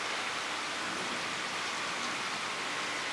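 Steady, dense thunderstorm rain hiss in southeastern Pennsylvania, close and uniform, with no pauses or voices for the whole stretch.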